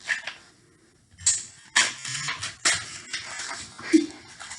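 A package of quarter-inch soft elastic is pulled open by hand, with crinkling plastic and scattered rustles and handling noises coming in short bursts close by.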